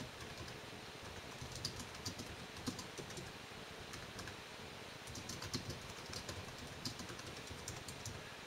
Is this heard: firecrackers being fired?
no